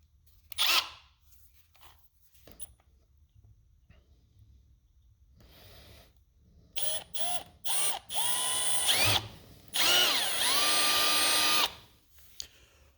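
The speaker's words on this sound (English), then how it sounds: "I'm going to drill with a 1364 drill bit, and I'm going to make the hole for the sun visor" A power drill with a 13/64 drill bit drills a hole for a car sun visor. It whines in several short bursts, then runs in two longer steady stretches, close and loud, with quiet pauses between.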